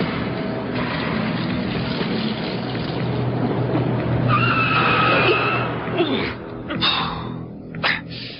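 A car skids to a stop, a long rough tyre-scraping rush with squealing tones toward the end, loud and close.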